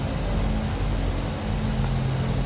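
A Twin Otter seaplane docks in a flight simulator game set in the Maldives, its propeller engines giving a steady, loud, unbroken drone throughout.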